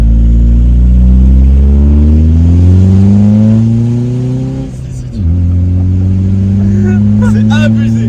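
A car with a custom stainless steel exhaust and its valve open revs loud and close, the engine pitch climbing steadily before a quick throttle lift and a sharp return to a hard, sustained drone.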